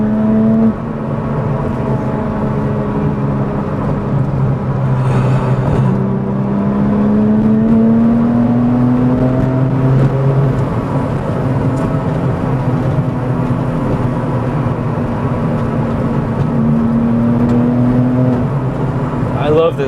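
A Porsche GT2 drives along with a steady engine drone inside the cabin, rising in pitch as it accelerates in long pulls. A voice talks over parts of it.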